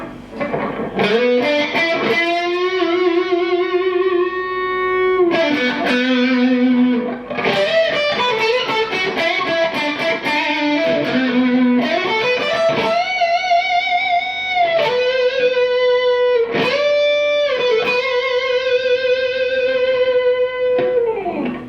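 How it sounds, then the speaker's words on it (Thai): A distorted Gibson Les Paul Studio 2010 electric guitar in the mixed pickup position plays sustained, crunchy notes and chords, loud and continuous, with a warm, gritty tone between bright and full. "เสียงแตกที่ตำแหน่งผสมนะครับ"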